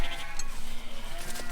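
Sheep held for clipping, among them tups and hogs, bleat close by in a short, loud, wavering cry.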